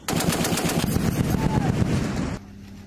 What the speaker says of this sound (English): Heavy machine gun and work your way in.